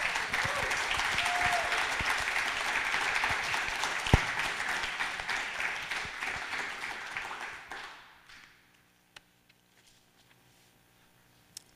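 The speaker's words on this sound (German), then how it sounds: "begrüßt mit einem 10-Punkte-Applaus am Mikrofon" Loud, dense applause from a large audience at a poetry slam fills the room, then fades out fairly quickly into near silence with a few stray claps.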